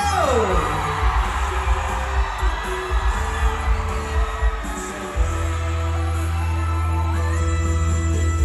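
A crowd at a singing competition final cheers and yells for Bandaraya Kota Kinabalu, whoops and shouts rising over a loud, sustained musical drone that shifts in pitch midway.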